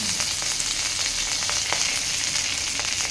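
Curry leaves and puffed rice fry in hot oil, a steady close hiss of sizzling with faint crackles and stirring running throughout without pause.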